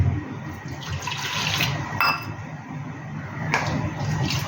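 Water pours from a tap in a steady splashing stream while cooking a curry in a home kitchen, with a brief clatter partway through.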